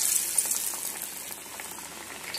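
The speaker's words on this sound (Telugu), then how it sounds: "వేసేస్తున్నాను ఇప్పుడు ఆయిల్లో. ఆయిల్ కూడా బాగా హీట్ ఎక్కిపోయిందండి." Black-eyed pea vadas (alasanda vada) frying in well-heated oil give a constant bubbling hiss, fairly loud and close, with no speech.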